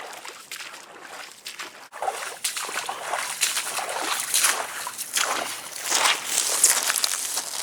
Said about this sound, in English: every time I step, it's squirting water out those holes for the drainage